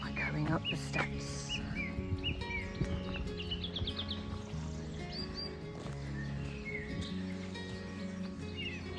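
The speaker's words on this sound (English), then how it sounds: "Some beautiful bird sounds. Lots of different birds." Several birds chirp and tweet in varied short calls in the gardens of Brodsworth Hall, over a busy outdoor background, with people talking softly nearby.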